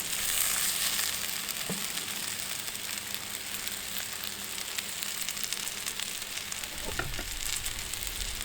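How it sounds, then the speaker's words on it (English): Chopped spinach is stirred into keema-spiced potatoes cooking over an outdoor firepit, with a continuous broad sizzle and hiss throughout and a couple of brief utensil knocks, fairly steady and unbroken. "Then add some chopped spinach or chard. Stir through."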